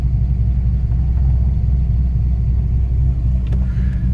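A Fox Body Mustang with an automatic transmission and a Terminator X fuel-injection setup idles steadily and loudly. Its low, even rumble runs without pause through the whole stretch.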